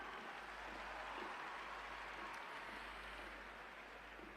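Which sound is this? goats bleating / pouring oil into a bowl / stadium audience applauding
stadium audience applauding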